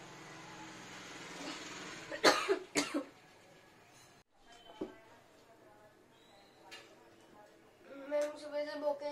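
A couple of sharp coughs near the start, then a quieter catch in the throat, with a voice talking before and after.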